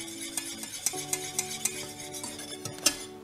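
A spoon stirring bisque béchamel in a pan, with regular rhythmic scrapes and light knocks against the metal over a soft bubbling simmer, close by with no talking.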